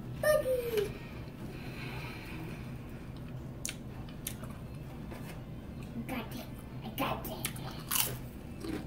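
Child biting into and chewing pickles at close range, crunchy bites and wet chewing scattered through the stretch, with a voice and babble mixed in.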